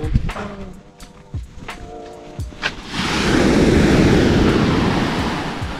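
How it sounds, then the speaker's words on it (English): Ocean surf rolls onto the beach at Vanilla Beach in the Philippines at low tide, a broad steady wash of waves swelling up after a few seconds of scattered handling noise and gusty wind on the microphone. "Yeah, and there's some waves."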